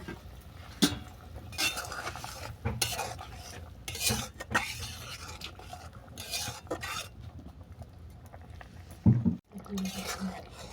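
Fried bottle gourd peel fritters go into a simmering curry and are stirred in a pan: scraping stirs, spoon clinks and a soft sizzle, with a voice talking over them.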